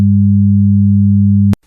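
Two steady sine tones at different pitches sound together, loud and unbroken for about a second and a half, forming a combined beating tone before cutting off abruptly.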